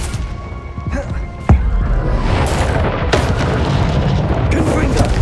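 A Confringo fire-spell explosion from the Hogwarts Legacy video game lands as a sudden heavy boom partway through, amid dense, continuous battle noise that keeps roaring afterward.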